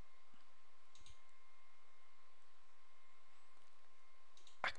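A computer mouse gives a few faint, isolated clicks over a quiet background, then one sharper, louder click at the very end.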